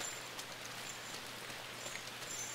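Rain falls steadily through a gloomy nighttime scene in the game Inside, a faint, even hiss of drops with a few soft patters, and no voices over it.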